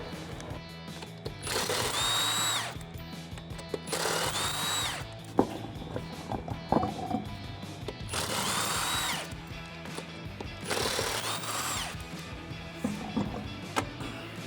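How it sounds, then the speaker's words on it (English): Power tool spinning off the rear wheel lug nuts of a 2005-2014 Ford Mustang in a garage, four loud whirring bursts of about a second each separated by quieter clatter and handling noise. "First thing we're going to do is pull our rear wheels off."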